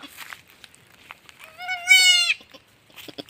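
A goat's loud, wavering bleat rises out of quiet rustling, lasting about a second, with soft shuffling noises before and after.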